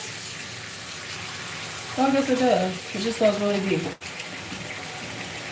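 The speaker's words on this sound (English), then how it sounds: "I'm going to put water in my sink." Tap water runs steadily into a bathroom sink with a constant hiss, while a person speaks briefly over it.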